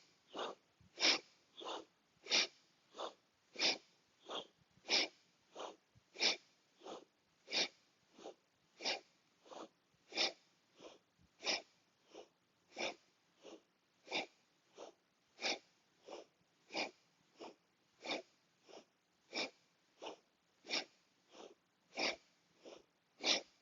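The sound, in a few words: rhythmic breathing during a kundalini yoga exercise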